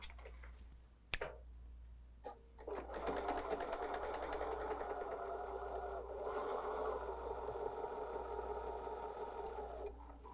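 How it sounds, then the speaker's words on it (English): A sewing machine stitches a quarter-inch seam through quilting fabric for a small table runner, starting with a few brief taps and then running steadily and fairly close for about eight seconds before stopping. "let's just go sew this 1/4 inch seam"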